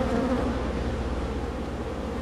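Bees buzz in a steady, dense drone close by around an old homestead house in rural Alabama, a continuous humming swarm with no voices.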